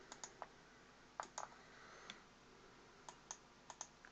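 Computer keyboard keys clicking while a VLOOKUP formula is entered in a spreadsheet, light scattered keystrokes in small bursts, faint and close against a quiet room.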